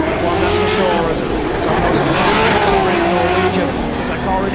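A 900-horsepower JZ-engined race car laps a circuit, its engine revving and wailing up and down loudly with tire squeal as the wheels lock under braking, while commentators talk over it.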